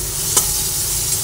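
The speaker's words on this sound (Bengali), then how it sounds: "একসঙ্গে পেঁয়াজ আর টমেটো ভালোভাবে ভেজে নিচ্ছি।" Onion and tomato fry together in a pan with a constant close hiss and sizzle. A single sharp utensil clink stands out near the start of this brief moment.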